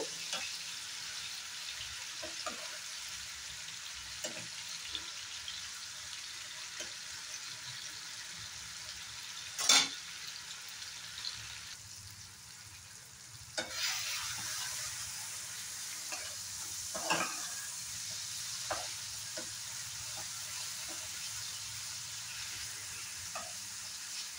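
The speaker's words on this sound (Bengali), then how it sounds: "টমেটোগুলো গলে না যাওয়া পর্যন্ত একটু রান্না করে নেব।" Tomatoes with a pinch of turmeric fry in a pan with a soft continuous sizzle, punctuated by occasional utensil scrapes and clinks, close and fairly quiet with no speech.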